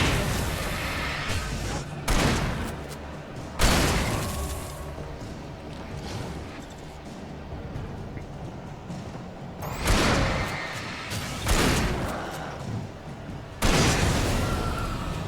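A pump-action shotgun fires repeatedly in Alan Wake Remastered, delivering loud, booming blasts roughly every two seconds, each followed by a decaying rumble and ambient noise.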